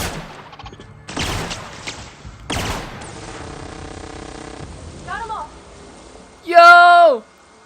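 Pistol fire in The Outer Worlds: several sharp, loud shots in quick succession early on, followed by a loud, bright synthetic burst near the end as the target is hit, with no talk over them.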